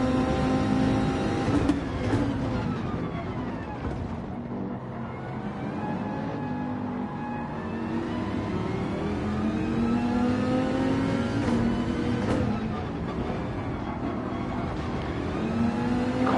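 Dodge Viper and Porsche race car engines in Gran Turismo 7, a steady, loud, sustained drone of engines revving and shifting, close and continuous with no talking.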